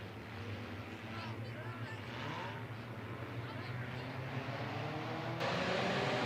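Sport compact race cars at Raceway Park drone and rev together in a steady, loud roar that holds for several seconds and swells slightly near the end.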